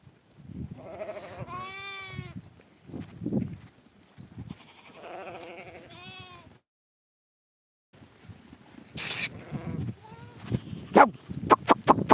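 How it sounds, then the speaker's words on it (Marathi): Several grazing sheep bleat nearby in a grassy pasture in wavering cries, separated by brief pauses, a gap of silence, then sharper animal calls and clattering noises. "असं मेंढ्या चारतोय आपण"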